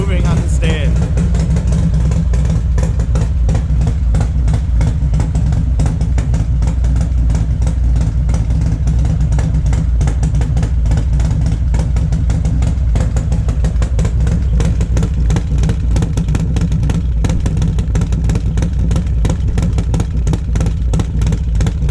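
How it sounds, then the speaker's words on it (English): Harley-Davidson Road Glide with a 125 cam and lithium battery idling on a stand, a loud close lumpy lope pulsing steadily throughout, with talk over it. "It's camming so hard, it's loping so hard, the bike's literally moving on the stand"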